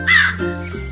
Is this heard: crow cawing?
yes